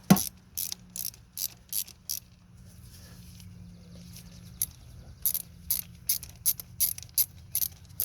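A ratchet turning out a spark plug on a Nissan Altima 2.5L engine, sharp clicking bursts in quick series, a pause with low background hum, then more rapid clicks, close and crisp.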